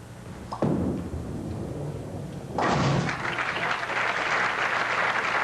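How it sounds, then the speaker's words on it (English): A bowling ball strikes the lone 10-pin on a spare in a 1982 pro tournament, a dull thud followed by a swell of crowd applause and cheering in a large bowling arena. "Just nice, firm speed, straight shot at the 10-pin."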